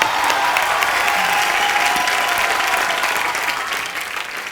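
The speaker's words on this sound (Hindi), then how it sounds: "ताली।" Steady, loud studio audience applause, a dense crowd clapping continuously before it fades slightly at the end.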